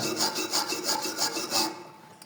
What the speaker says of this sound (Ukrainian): Після зварювання збиваємо шлак та зачищаємо щіткою по металу.